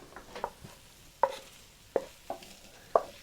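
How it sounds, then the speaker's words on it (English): Eggs being mixed into cheeseburger cornbread batter: about six quick, separate stirring and scraping strokes in an uneven rhythm, close and fairly clear, with no talking. "I want to get this in and then mix it real quickly."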